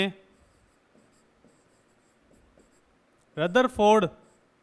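Pen or chalk strokes during a Class 11 chemistry lecture on atomic structure, faint scratchy writing for a few seconds, then a voice speaking.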